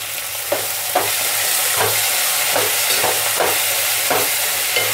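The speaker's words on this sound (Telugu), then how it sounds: "టమాటా ముక్కలు, ఉల్లిపాయ ముక్కలు ఫ్రై అయినాయి కదా" Tomato and onion pieces frying in a pan make a loud, steady sizzle with regular soft stirring strokes about every half second, close up and without speech.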